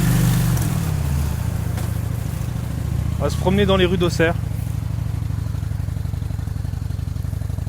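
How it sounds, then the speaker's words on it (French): A Honda Shadow VT 600 motorcycle rides through town streets in sunny weather, its low engine rumble steady and close throughout, with a brief higher tonal sound in the middle while someone talks over the ride. "On a sorti la moto"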